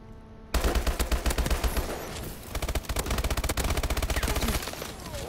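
Rapid automatic gunfire from the shooter video game Call of Duty Advanced Warfare, loud, close bursts of shots rattling in quick succession, with brief pauses between the volleys and faint voices in the background.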